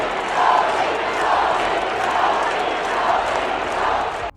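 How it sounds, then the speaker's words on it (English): Indiana Fever fans fill a women's basketball arena with a loud, steady crowd chant, rhythmic swells of many voices carrying across the whole stretch before cutting off abruptly. "The Indiana Fever fans were chanting"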